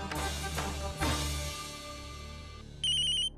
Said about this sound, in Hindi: लेकिन फोन बज गया।